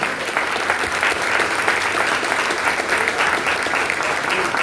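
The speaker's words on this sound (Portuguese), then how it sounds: "Você pode dar sua melhor salva de palmas para Jesus." A church congregation claps together in a dense, sustained round of applause that holds steady throughout.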